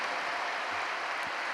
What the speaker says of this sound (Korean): 뜨거운 축하의 박수를 다시 한번 부탁드립니다